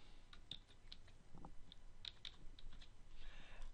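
Someone types a password on a computer keyboard while logging into a virtual computer lab, a quiet run of irregular key clicks over faint background hiss.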